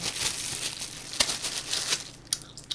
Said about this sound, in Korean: 자, 비닐장갑 끼고 한번 만져볼게요.